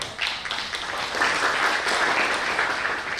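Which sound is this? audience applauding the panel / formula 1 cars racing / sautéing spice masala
audience applauding the panel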